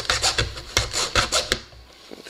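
A 3x3 slim puzzle cube piece being sanded by hand: rapid, rhythmic rasping strokes close up, about eight scrapes in quick succession before trailing off into quiet.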